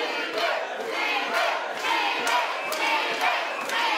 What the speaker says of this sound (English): The crowd get behind Levy here as she circles in the outside